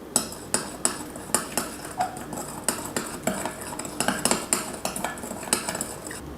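Buckwheat bread batter with yogurt stirred in a bowl, a spoon striking and scraping the bowl in a steady, rapid rhythm of close, crisp clinks.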